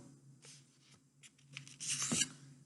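Folded origami paper for a penguin craft being creased, a few soft rubbing and scraping strokes ending in a louder, longer crisp swipe, close and quiet with no talk.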